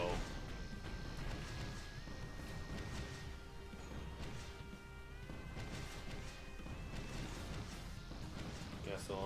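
Rockets striking an enemy ship in the space combat game ReconOne: Space Arena, a dense run of loud crashing impacts and bursts layered over a steady electronic game soundtrack, sustained with no pauses.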